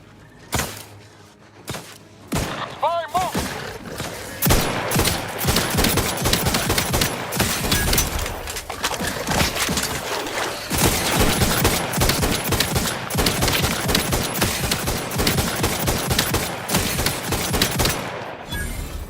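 Rapid gunfire in the Outer Worlds 2 video game, a long burst of dense, loud shots fired in quick succession, with a few isolated shots at the start before the sustained volley.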